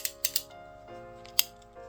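A sharp knife slices riccardia moss on a cutting board, giving a few crisp snipping cuts and a scrape up close, with a steady tonal background hum.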